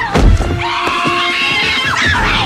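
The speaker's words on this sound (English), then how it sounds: "for God's sake, stop screaming and do something!" A woman screams loudly in a dramatic action film scene, a sustained high shriek over crashing and thudding effects.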